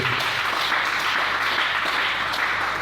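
A church congregation claps and cheers in praise during a French-language sermon on prayer, a dense steady roar of applause filling the room throughout.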